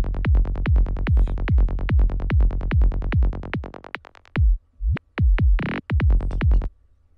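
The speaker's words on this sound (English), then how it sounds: "This is only the kick and bass." Remade electronic kick drum and bass fill made in Ableton: a steady run of deep, punchy kicks with bass that thins out, then a few broken stutter hits and a short pause.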